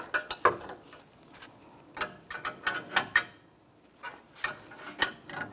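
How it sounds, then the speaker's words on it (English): A hand wrench ratchets in short, quiet clicking runs while undoing clamps during a leveling kit install on a 1997-2006 Jeep Wrangler. The clicks come in irregular bursts with small pauses between them, and nobody speaks. "I'm going to get my wrench to undo those clamps."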